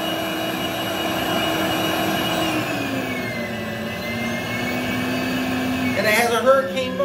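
A Rainbow vacuum cleaner with a water filter and hurricane motor whirs steadily at close range, its drone shifting pitch partway through, with a speaking voice underneath and a clattering burst near the end.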